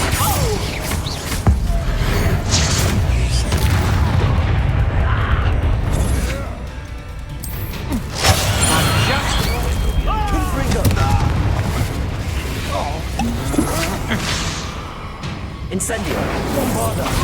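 Explosion spells such as Confringo and Bombarda go off in the video game Hogwarts Legacy as loud, repeated booms and crashes mixed with combat effects, with character voices speaking throughout.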